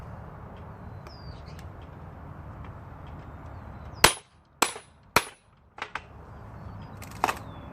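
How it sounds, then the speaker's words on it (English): A wooden pallet board being broken down cracks and splits in a series of sharp, loud snaps, four close together then one more, over a quiet background. "Did exactly what I thought I was going to do. I split the board."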